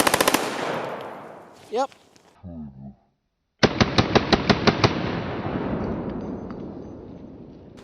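Steel Case .223 rounds fired from a PSR41 AR-style rifle in a quick string of about eight sharp, loud shots with echoing tails, preceded by a short spoken word and a pause.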